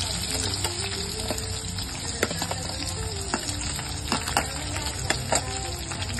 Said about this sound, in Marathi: खोबरं आपल्याला लाल होईपर्यंत परतायचे